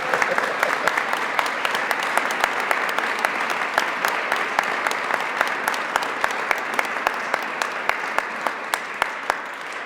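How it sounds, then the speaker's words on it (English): A crowd at a city announcement gives a sustained round of applause for Erik Soliván, the first executive director of the Office of Hope, with steady, dense clapping and sharp individual claps throughout. "Give Erik a round of applause"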